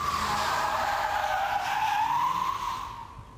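A modified Mercedes-Benz CL doing donuts, its tires giving a loud, continuous squealing skid that wavers in pitch and then fades out at the end, with no voices.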